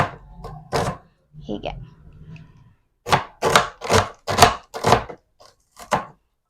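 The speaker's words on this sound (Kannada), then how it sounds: "ಇದನ್ನು ಹಾಗೆ ಚಿಕ್ಕದಾಗಿರೋ ಪೀಸಸ್ ಅಲ್ಲಿ ಕಟ್ ಮಾಡ್ತೀನಿ" A knife chopping rolled paratha dough into small pieces on a board, a quick run of six or seven sharp thuds after a brief spoken word and some quieter handling.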